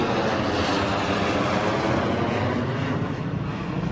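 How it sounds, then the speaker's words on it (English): Military aircraft passing at the Singapore National Day Parade produce a loud, steady broadband roar that fills the air continuously, close overhead, with no talking. "Another plane is coming back."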